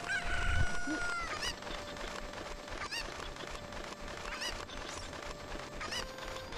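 Cucco chickens in Ocarina of Time crow and squawk loudly, with a rooster-like call at the start followed by repeated clucking cries over a busy game soundscape, and no talking.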